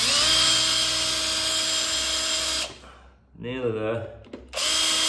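A power drill bores a 6mm hole through a mortice drill template, a loud steady high whine that cuts out briefly while someone speaks, then starts up again.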